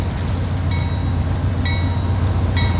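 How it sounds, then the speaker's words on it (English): Freight train rolling past close by a beach campsite in the early morning, a loud steady rumble with wheel clatter and high squeals, heard alone without voices. "This is the fifth train that's come by early morning train."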